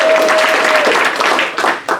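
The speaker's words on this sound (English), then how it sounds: "Let's give him a round of applause." An audience at a people's forum on Medicare for All applauds a speaker taking the floor, a loud, dense burst of clapping with a thin steady tone running through the first part before the claps thin out and break up.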